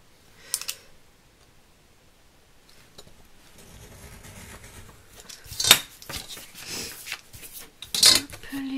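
Scissors cut a paper photo for a Christmas scrapbook album, giving a couple of sharp, crisp snips well apart, with faint handling rustles and light clicks between them and no talking.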